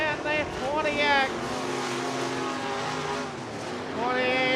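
Sportmod race cars lapping Stuart Speedway, engines rising and falling in pitch as they pass, loud and continuous, with a commentator's voice running over the engine roar.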